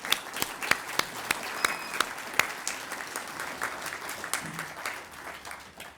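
A conference audience applauds, with scattered individual claps rising into moderate, continuous clapping from a medium-sized crowd in a hall, some sharper claps standing out close by.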